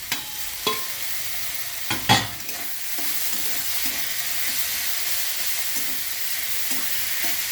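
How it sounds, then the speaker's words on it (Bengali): Prawns being stirred into an elephant foot yam stalk ghonto frying in a pan, with a few sharp spoon clatters early on, then a steady close sizzle with rhythmic scraping stirs and no voices. "এবার আমি চিংড়ি মাছগুলো মিশিয়ে দেবো"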